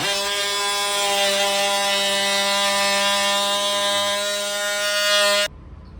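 A power tool cuts a cutout into a panel aboard a trawler, a loud steady high-pitched whine with a strong buzzing tone held for over five seconds before stopping abruptly.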